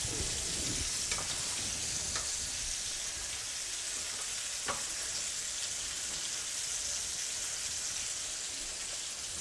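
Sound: meat frying in a pan

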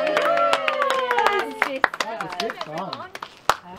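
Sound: audience round of applause

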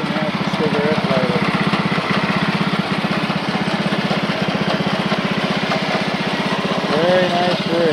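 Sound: tractor engine running

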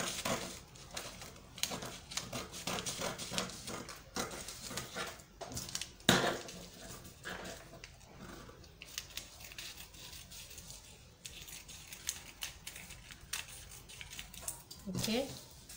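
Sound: scissors cutting out a skirt pattern

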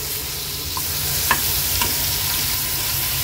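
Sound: hilsa fish pieces frying in a pan, being flipped

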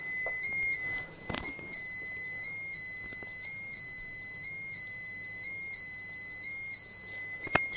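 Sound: Pyronix Euro-46 alarm panel sounding after being triggered

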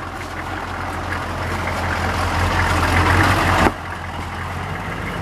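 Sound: four-wheel drive vehicle engine

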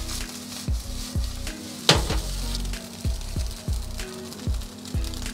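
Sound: pan-frying pineapple seafood fried rice

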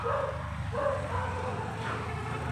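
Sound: dog barking while running up

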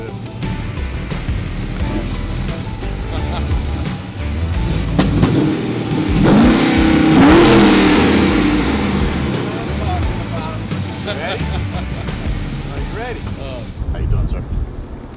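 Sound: 1966 Pontiac GTO engine revving as it arrives

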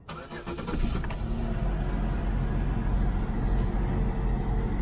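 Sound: old clunker car engine running

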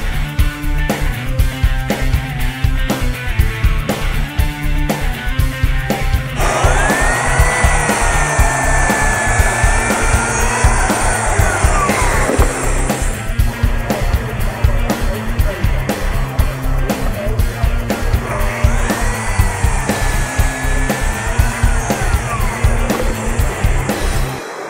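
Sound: saw cutting sheet material

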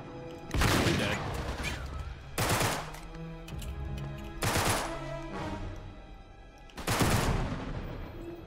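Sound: shotgun shooting in Uncharted 3 video game

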